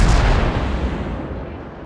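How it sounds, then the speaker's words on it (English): Loud naval gun salvo from the Molotov cruiser in World of Warships, a heavy booming blast at the start that rolls off into a long decaying rumble with no voices. "I shoot again"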